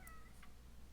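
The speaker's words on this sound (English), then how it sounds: "I hear Kitty." A cat meows a couple of times indoors, short tonal calls over a steady low hum, fairly quiet and without talk.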